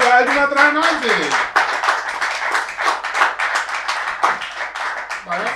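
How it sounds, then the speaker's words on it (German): Live audience at a Kalles Halbzeit show applauding and clapping for the Altona 93 football club, dense sustained clapping close and loud throughout, with a voice shouting over it. "Applaus, Applaus, Applaus, Applaus! Für Altona 93!"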